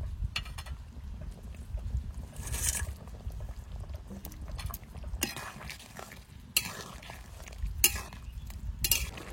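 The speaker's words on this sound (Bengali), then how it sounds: "ঝিঙের তরকারি হয়ে গেছে, এবার মাছ দিয়ে দেবো।" Fish goes into a ridge gourd curry and is stirred in a pan. Quiet, intermittent scraping and clinking of a spatula against the pan sound close by, over a soft low background.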